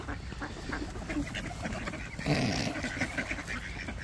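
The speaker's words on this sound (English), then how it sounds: "I've never seen so many ducks." Busy outdoor bird noise with overlapping calls and quacking squawks from a crowd of ducks, fairly close, steady throughout with a louder burst midway.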